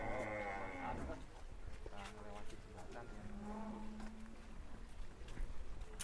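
Cattle moo at a farm with giant cows: several drawn-out low calls follow one another, fairly near, while people talk in the background.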